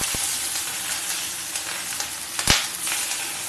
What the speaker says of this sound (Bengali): মাছগুলো আমি চটপট করে ভেজে নেব